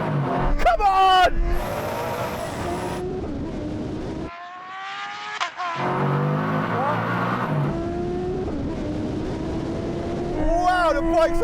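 A turbocharged Hayabusa motorcycle drag races a Koenigsegg and a Tesla Plaid: loud engines rev and roar in rising, shifting bursts, cut by a brief near-silent gap, while excited voices shout and talk over the noise.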